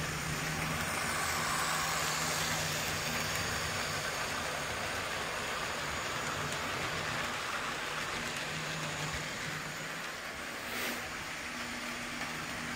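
A Model Power F2 model train pulling Mantua cars around a track, heard up close at track level as a steady, dense rolling rumble that holds evenly throughout.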